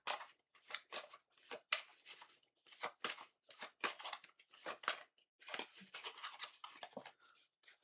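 Tarot cards are shuffled and drawn from a deck in a quiet room, a series of soft, close papery swishes and flicks in an uneven rhythm, followed by a final card slide.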